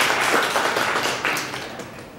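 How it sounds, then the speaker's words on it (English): An audience at the uOttawa STEAM Fest 2019 claps for the event team, a dense, steady wash of many hands in a hall, loud and continuous across the whole stretch with no talk. "we should probably give a round of applause to the Steam team here for putting on such an excellent presentation"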